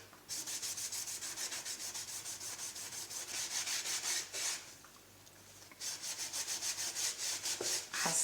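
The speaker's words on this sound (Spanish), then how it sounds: "Si te parece que lo pintaste mucho, con una esponja lo sacas." A sponge rubs excess paint off a craft tray in quick rhythmic back-and-forth strokes, a close scratchy rasp with a short pause midway before the scrubbing resumes.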